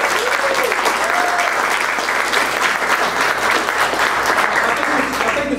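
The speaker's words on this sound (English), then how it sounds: "we should give a round of applause to the Esperanza Peace and Justice Center" Sustained, dense applause from a large crowd, steady and loud throughout, with faint voices mixed in.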